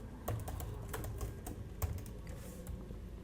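Steady typing of code on a computer keyboard while building a Laravel app, a continuous patter of close keystrokes with a few louder taps and no talking.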